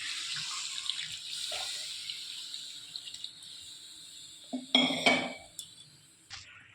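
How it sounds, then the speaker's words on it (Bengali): Water poured into a pan of chicken curry cooked chili-chicken style with green chilies, a short loud splashing burst near the middle after quiet kitchen background, with a brief trailing splash near the end. "তো এবার জল দিয়ে দেব।"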